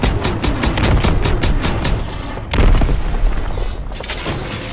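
Gunfire in the World War II shooter game Call of Duty WW2: rapid bursts of automatic fire and heavy booms crowd together, loud and close, with a big blast midway and no speech.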